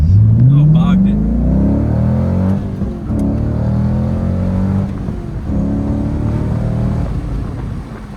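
Corvette Z06 engine revving hard, then bogging and droning at low rpm, loud and close from inside the car, with engine tones rising and dipping through gear changes and a voice talking over it.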